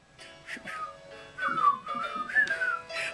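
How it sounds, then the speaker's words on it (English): A person whistles a tune along to a song from Spamalot, several clear sliding melodic phrases, close and fairly soft, with no talking. "give a whistle"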